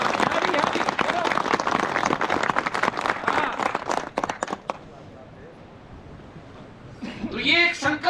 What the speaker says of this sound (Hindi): धराली की ताली चाहिए मुझे। चलो बजाओ।